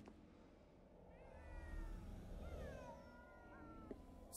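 A cat meows repeatedly inside the video game GhostWire: Tokyo, its drawn-out rising and falling cries sounding close and clear over a low ambient game background.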